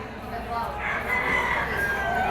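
A stag rooster, a banderado with bulik markings, crows once in a long rising call. Farmyard noise and clucking sit around it at moderate distance, and someone talks faintly nearby.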